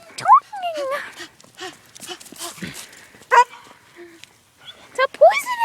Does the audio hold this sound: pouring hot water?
no